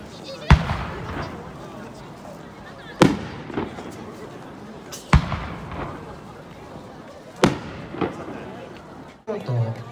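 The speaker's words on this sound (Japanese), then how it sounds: "毎年やってる奉納花火を今日もあげましたので" Five sharp votive firework bangs burst at spaced intervals, each followed by crackling echo, with murmuring crowd chatter in between.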